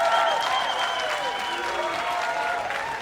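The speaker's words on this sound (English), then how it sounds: "Give them another round of applause." An audience at a King of the Court beach volleyball event in Utrecht claps steadily for about three seconds, a dense wash of applause with a voice talking over it.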